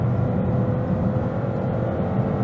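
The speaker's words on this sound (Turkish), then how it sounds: "3 silindirli motorun sesi gerçekten güzel geliyor kulağa." A 2022 Toyota Corolla with a 1.5-litre three-cylinder engine accelerates at full throttle, giving a steady, moderately loud engine drone and road noise from inside the cabin, no voices.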